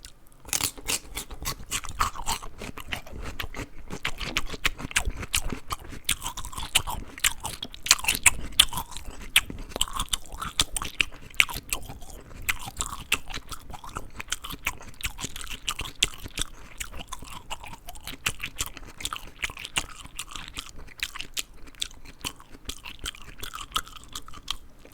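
Close, steady crunching and chewing of raw carrots, celery, apples, pickles and mixed nuts, with dense crisp bites and munching packed throughout and no talking.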